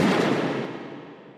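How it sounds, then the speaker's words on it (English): A single pistol gunshot sound effect from an audio drama: one loud, sharp blast with a long reverberant decay, heard alone. "Sounded like gunfire."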